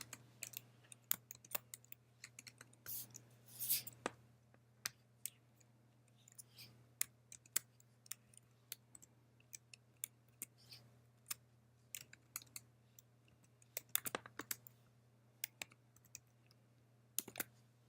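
Quiet, scattered keystrokes on a computer keyboard as a company name is entered into an online search, with a steady low hum in the background and irregular clicks that come in short bursts.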